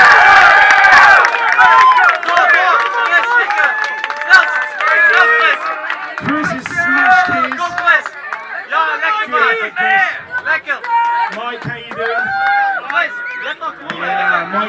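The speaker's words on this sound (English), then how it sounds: "feel free to find your favourite and cheer them on" A crowd cheers and calls out at a chilli eating competition in Eindhoven, Netherlands, a dense sustained roar of many voices with people talking close by throughout.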